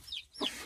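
A hen clucks on a farm smallholding where chicks are being settled back into a box, with two short bursts of clucking close by over a quiet outdoor background and no talk.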